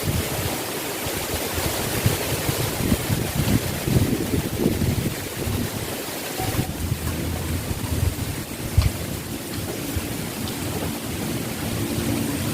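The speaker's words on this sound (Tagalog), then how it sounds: "Grabe kay hangin dari way kalaki." Strong, steady wind roars and buffets the microphone throughout at a fishpond, with a constant broadband rush and low rumbling gusts, no voices.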